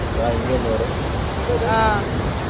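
Steady, broadband roar of water at Athirapalli Falls fills the background at moderate loudness while people talk over it.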